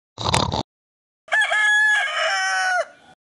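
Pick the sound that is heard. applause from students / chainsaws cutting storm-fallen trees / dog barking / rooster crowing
rooster crowing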